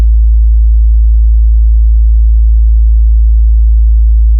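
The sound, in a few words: low sub-bass sine tone frequency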